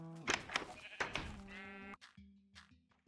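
In Minecraft, sheep let out several close, wavering bleats, followed by soft blocky game thumps and a lower droning tone.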